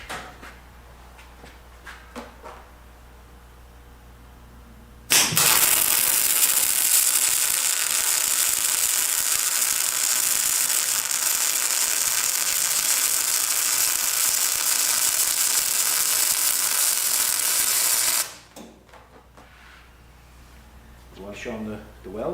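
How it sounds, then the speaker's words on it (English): Steel lawn pole being welded on its opposite side: a steady, loud crackling hiss starts abruptly, runs about thirteen seconds without a break, then cuts off, with quiet shop ambience before and after. "I'm going to flip it over, and I'm going to weld the complete opposite side."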